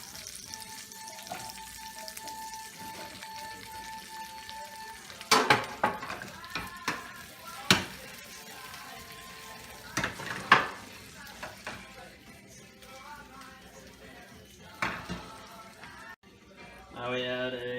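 Cut Brussels sprouts tipped into hot pancetta oil in a pan, with bursts of sizzling and clattering as they land and are moved around, close by, while people speak at times.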